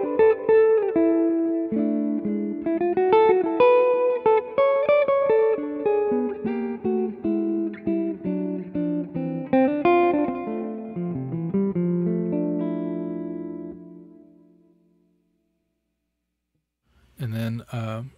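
Electric guitar notes and chords through a Line 6 Helix with modulated plate reverb and delay ring out with lush, shimmering reverb and echoing repeats, trailing off into silence before a brief final strum.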